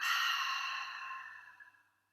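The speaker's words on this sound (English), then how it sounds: "nice full deep breath in. Exhale." A deep, slow exhale during a gentle relaxation flow, a breathy airy rush that starts strong and fades smoothly to silence over about two seconds, close and alone.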